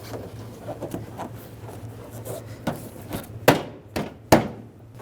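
An active grille shutter on a 2013-2016 Dodge Dart is tapped into place, giving three sharp plastic knocks near the end after a stretch of quieter rubbing and handling, close and fairly loud, with no talking.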